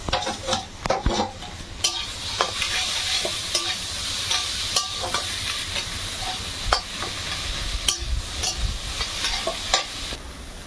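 Crab meat and potatoes are stirred together in a frying pan, with a continuous close sizzle and a utensil clacking and scraping against the pan in irregular strokes, all without any voices.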